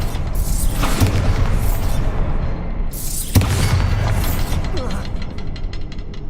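Bombarda explosion spell in Hogwarts Legacy, two deep booming blasts with crackling debris, the second landing about three seconds after the first.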